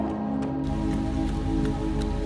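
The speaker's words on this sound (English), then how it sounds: "It's 44 degrees and it's nice and rainy outside." Steady rain falls outside on a 44-degree day, a dense continuous hiss of drops on surfaces, even and unbroken throughout with no voices.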